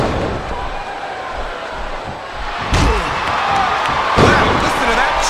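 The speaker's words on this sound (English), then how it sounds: "Wow, listen to that chant, Taz." Arena crowd noise from the WWE SmackDown vs Raw 2007 wrestling game on PS2, a continuous roaring chant punctuated by a couple of heavy ring slams and thuds, with commentary voices talking over it.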